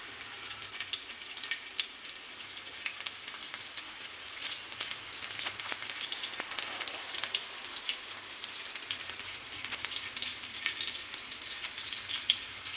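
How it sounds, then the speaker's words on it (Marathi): Garlic and curry leaves sauté in hot oil on a tawa for an onion chutney, a steady close sizzle with crackling pops running throughout, no voices. "कडीपत्ता लसूण छान असा क परतून घ्यायचा"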